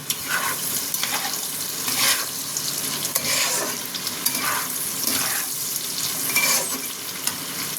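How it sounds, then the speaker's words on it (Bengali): Ingredients for a non-veg mixed pulao fry and get stirred in a pan, giving a steady close sizzle with repeated scraping and stirring strokes throughout, with no talking. "এটাকে একটু ভালো মতন ভাজতে হবে।"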